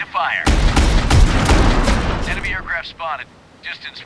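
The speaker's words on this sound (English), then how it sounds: "Cannon, ready to fire." Warship cannon fire in a naval combat mobile game with a Type 052D destroyer, a loud close burst of rapid booming shots over about two seconds, followed by radio-style voice callouts.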